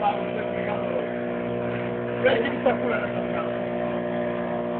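A small fishing boat's engine runs at sea with a steady, loud, droning hum that holds an even pitch throughout, while people talk over it.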